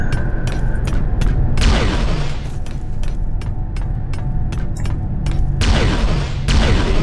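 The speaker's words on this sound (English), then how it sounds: "Explosions are the most dangerous thing for us in this game" Loud explosions in the Iron Man video game boom one after another, mixed with rapid gunfire-like cracks and a clattering mechanical din throughout.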